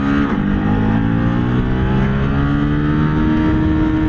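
A Ducati Desert X motorcycle engine hums loudly and steadily nearby, with a droning tone that shifts slightly in pitch, and no voices.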